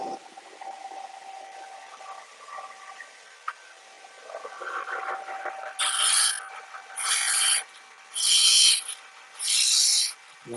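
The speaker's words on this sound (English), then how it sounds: "So we do the tungsten grinder." A 1/16-inch tungsten electrode ground on a tungsten grinder for TIG welding stainless steel: soft mechanical whirring builds, then four loud, even bursts of high grinding hiss, each about a second long and separated by short pauses.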